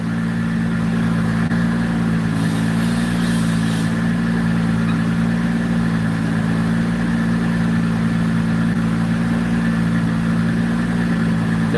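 A turbocharged car engine runs on a dyno with a loud, steady drone throughout, holding a constant pitch with a brief faint hiss partway through.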